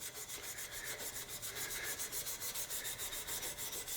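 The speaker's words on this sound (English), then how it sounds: "Stop the lathe and then go with the grain, with the sandpaper, in that same grit." Slimline pen on a stopped lathe being hand-sanded lengthwise with sandpaper: a steady, close rhythmic rubbing with quick back-and-forth strokes, alone.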